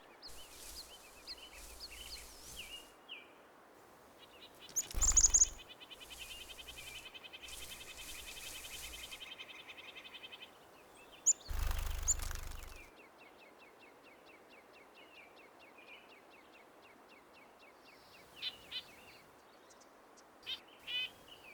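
Black-capped chickadees and American robins sing in a quiet wooded area, with scattered high chirps and short song phrases coming from a moderate distance. A few louder, brief bursts stand out against a faint background hum.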